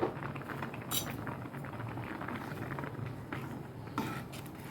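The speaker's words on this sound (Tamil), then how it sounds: "இப்போ ஓப்பன் பண்ணி ஒரு தடவை கிளறி கொடுத்துக்கலாம்." Rice boiling in a pot for rice kheer is stirred, with soft bubbling under a few light scraping and clinking touches of the spoon against the pot, fairly quiet and close.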